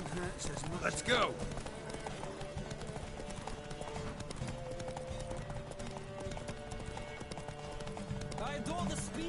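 Steady hoofbeats of a galloping horse in The Witcher 3: Wild Hunt on PS4, heard under continuous voices and a busy game soundtrack, at a moderate level throughout.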